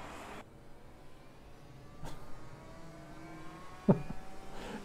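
A race car engine in rFactor 2 hums faintly and distantly, rising slowly, with a few brief sharp knocks and a short louder burst near the end.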